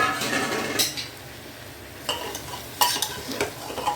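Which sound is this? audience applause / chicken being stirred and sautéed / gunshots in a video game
chicken being stirred and sautéed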